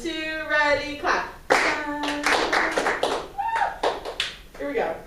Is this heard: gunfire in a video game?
no